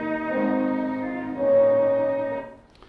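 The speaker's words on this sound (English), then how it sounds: "So then we got tape machines, and that started to sound pretty good." Short passage of music played back from a tape machine recording, two sustained tones with harmonics shifting pitch midway, fairly soft and alone, fading out at the end.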